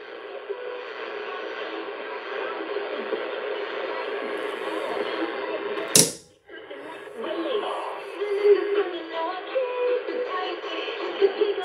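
A shortwave radio tuned around the 19 meter band on an NFED antenna gives noisy reception, with a steady hiss and a faint signal, a sharp crackling burst midway, then a brief drop and returning fluctuating noise.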